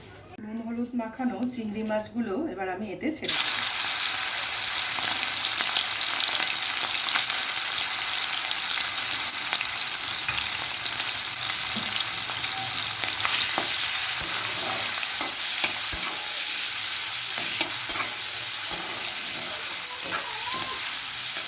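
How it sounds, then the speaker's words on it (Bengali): Dry red chilli drops into well-heated oil for tempering, breaking into a loud, steady crackling sizzle that continues evenly to the end after a brief voice at the start. "তেলটা আমার খুব ভালোভাবে গরম হয়ে গেছে এবার আমি এতে একটা শুকনো লঙ্কা ফোড়ন দিয়ে নিলাম"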